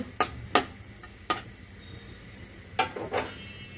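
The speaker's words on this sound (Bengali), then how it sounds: "শুকনো মরিচটাকে আমি হালকা করে একটু ভেজে নেব" Dried chili fries lightly in oil in a pan while bitter gourd lentil dal is being made, a soft steady sizzle up close with several sharp stirring clinks and taps scattered over nearly four seconds.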